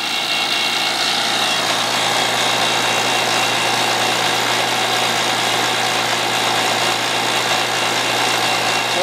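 An HVAC vacuum pump, a JB Platinum 7 CFM model, runs steadily and loudly for the whole stretch with a constant motor drone and hum, close by, with no talking.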